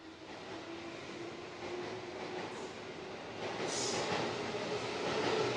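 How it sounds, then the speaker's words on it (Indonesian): A KRL commuter train rumbles past nearby at Cawang station in Jakarta, steady and growing louder toward the end, with faint squealing from the wheels and no voices. "audionya agak sedikit terganggu karena ada kereta yang telat baru saja lewat"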